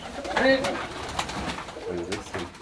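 Rolling pigeons coo in a loft, with soft, throaty, rounded calls coming close by in a couple of separate bouts over a light background murmur.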